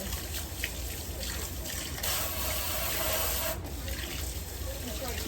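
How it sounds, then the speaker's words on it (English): Cold tap water runs steadily into a container being filled for home-canned garden potatoes, a continuous trickling splash with a brief swell midway, close and moderately loud with no speech over it. "I'm actually going to fill this up with cold water"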